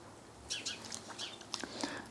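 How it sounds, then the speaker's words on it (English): Small birds chirp in short, faint, scattered calls at a bird table outdoors, a few quick tweets over a quiet background. "You can hear the birdies on the bird table."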